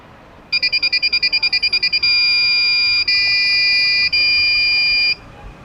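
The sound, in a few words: Arduino security system buzzer alarm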